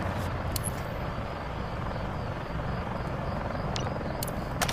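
A helicopter in Call of Duty: Modern Warfare III gives off a loud, continuous rotor roar that stays steady throughout, with a few brief high clicks over the top and no voices.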